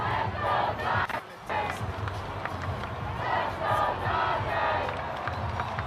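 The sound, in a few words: parade crowd chanting "Let's go Dodgers"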